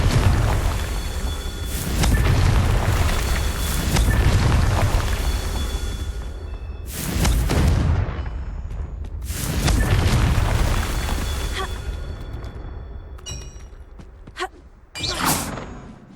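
Repeated fiery explosive blasts from the Confringo spell in Hogwarts Legacy, several loud booming bursts with whooshing tails spaced across the stretch, ending with a couple of sharper quick pops amid ambient game sound.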